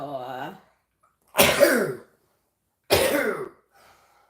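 Two sharp, loud sneezes from a person nearby, evenly spaced, preceded by a brief spoken word.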